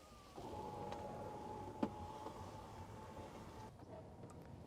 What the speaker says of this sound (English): the entire center console will move backwards until it is positioned between the rear passengers